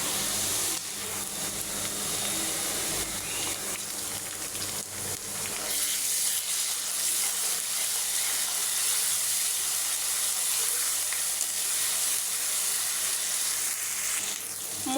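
Onion, ginger and garlic fry in a pan with a steady, close sizzle and hiss, a continuous bright crackle with faint stirring underneath and no voices.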